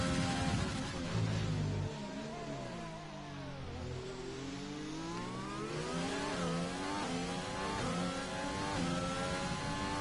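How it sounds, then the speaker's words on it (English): A McLaren race car engine in a racing video game revs and accelerates continuously for ten seconds, its pitch dipping and then climbing again through the gears, loud and steady with no talk over it. "McLaren of Eddie is the first car out as the Mighty Frax is disconnected"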